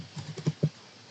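Several quick keystrokes on a computer keyboard while a network command is entered, a short, fairly faint burst of uneven clicks with no talking.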